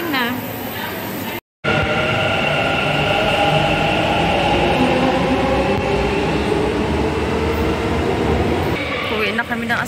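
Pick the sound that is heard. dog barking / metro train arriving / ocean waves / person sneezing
metro train arriving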